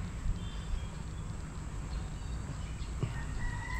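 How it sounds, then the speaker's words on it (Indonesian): Chickens and roosters in a Javanese village, faint and distant under a steady outdoor background hum, with a rooster's crow and a few clucks. "Suara-suara ya kan, ayam, burung."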